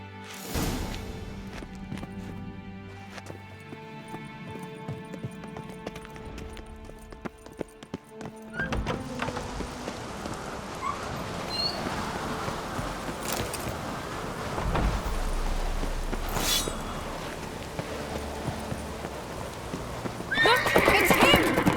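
Hooves clip-clop at a gallop while a horse whinnies in The Witcher 3, over game music and ambient noise; the pounding grows louder and busier in the second half.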